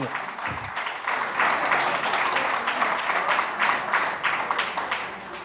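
Audience applause for Claret, a writer honored at a creative arts and literature event, with steady dense clapping that stays loud and even from start to finish.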